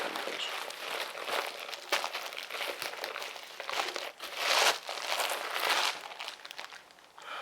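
The plastic accessory bag of a Corsair RM650x 650W modular power supply is handled close up, giving continuous crinkling and rustling in uneven bursts, with louder crunches around the middle.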